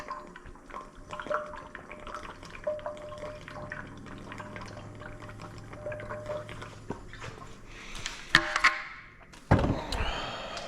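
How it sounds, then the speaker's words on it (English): Oil gurgles into the filler of a Farmall Super C tractor in close, steady dripping and pouring, followed by a few metallic clunks and a rattle near the end. "I'll top the oil off here"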